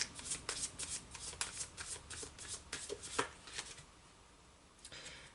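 A deck of tarot cards is shuffled close up, giving a rapid run of crisp riffling flicks and papery slaps that eases into softer handling at the end, with no talking.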